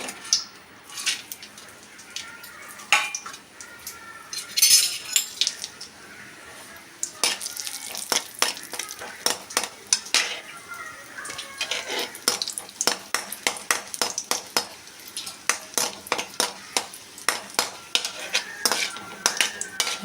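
Cashews and raisins fry in ghee in a pan, heard as a steady sizzle broken by frequent sharp clinks and scrapes of a spoon stirring against metal, fairly close and without any talk.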